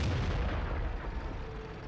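A tank gun firing in the World of Tanks video game: one loud, deep boom with a rumbling tail that fades over about two seconds.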